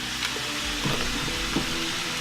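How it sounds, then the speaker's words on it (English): Steady sizzle of chicken frying in a pan fills the clip, a constant crackling hiss with a few faint pops and clicks, no voices. "So sorry about that little sizzling noise you can hear,"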